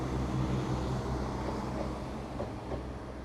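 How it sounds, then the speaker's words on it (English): An East Midlands Railway Aurora train rumbles low and steady as it approaches around a curve near Derby, a fairly loud, sustained rolling drone with faint rail clatter and no talk. "Coming around the corner now is your 1310 East Midlands Railway Aurora service down to Sheffield from St Pancras."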